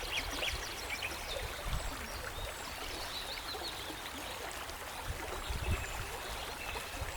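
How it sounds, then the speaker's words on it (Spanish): Gentle, quiet flow of Nile river water, a soft steady trickle and murmur with faint scattered splashes and distant animal calls, continuing evenly throughout. "Solo el sonido constante y paciente del agua fluyendo"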